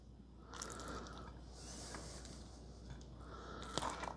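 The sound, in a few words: spreading spaghetti mixture into a baking pan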